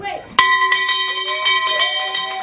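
A hand bell is struck hard and rung repeatedly, bright ringing tones piling up at a lively rhythm, loud and close, with voices and cheering underneath.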